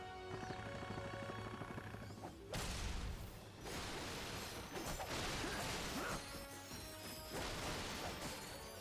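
In Ratchet & Clank (2016), bolts are gathered amid a burst of crashing, clanking metallic impacts and rattles, loud smashing hits followed by a sustained shower of jingling pickups layered over a soft tonal game music bed.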